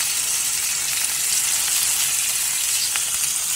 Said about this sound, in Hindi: तो हल्का सा फ्राई कर लेते हैं। इसमें थोड़ा सा डालूंगी हल्दी